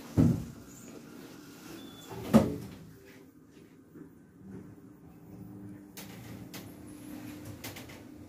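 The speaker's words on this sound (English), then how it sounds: "Doors closing." Doors of an Otis GeN2 2000 machine-room-less traction lift at Trinity College, Dublin sliding shut, a soft thud near the start and a second bump a couple of seconds later, then a quiet low hum.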